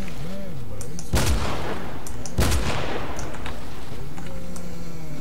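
Gunfire in the shooter game S.T.A.L.K.E.R. with the New Arsenal 5.1 mod, two loud sharp shots about a second apart over a constant droning ambient bed, each shot leaving a brief decaying echo.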